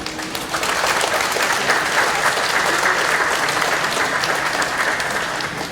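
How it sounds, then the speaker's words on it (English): Festival crowd at a Hmong community festival applauding community leaders, a loud, steady, sustained wash of clapping that fills the whole stretch without pause. "please give yourselves a round of applause"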